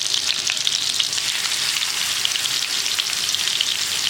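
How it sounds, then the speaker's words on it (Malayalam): Marinated tandoori chicken pieces fry in butter and oil in a pan over low flame, a close, even hiss of crackling sizzle that holds steady throughout with no voices. "ഇത് ലോ ഫ്ലെയിമിൽ തന്നെ ഫ്രൈ ചെയ്യണം"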